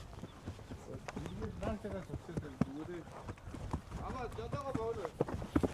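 A horse trots at a herding family's camp; rhythmic hoof clip-clops sit faintly beneath people talking close by.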